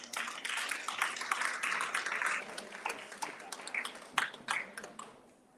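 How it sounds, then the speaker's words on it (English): An audience at a hula competition in Hawaii applauds the event's sponsors, a dense sustained burst of clapping that thins out into scattered claps and then fades away. "Let's give our sponsors a round of applause."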